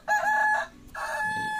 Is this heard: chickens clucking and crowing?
yes